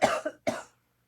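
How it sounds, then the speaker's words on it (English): A person with a lingering cough gives two short, close coughs in quick succession, the second slightly shorter, with silence afterward. "I'm feeling much better, but I still have a little bit of a cough."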